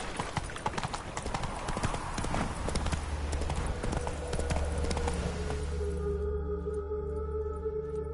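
Horse hooves clip-clop in a steady trotting rhythm while riding in The Witcher 3, clear and close for several seconds before giving way to a softer ambient tone and music, with a voice briefly present.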